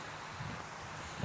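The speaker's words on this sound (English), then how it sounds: "It's still gusting from time to time, but it's just a little breezy." Light breeze gusting during a post-hurricane storm turning into a nor'easter in New Jersey, a faint steady wind rush against the microphone with a small bump of gust.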